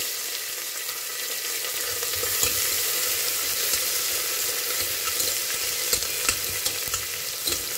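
Onions sautéing in a pan toward golden brown while tomato bath is being cooked, with a steady sizzle that holds throughout and occasional clicks of stirring close by. Nobody speaks.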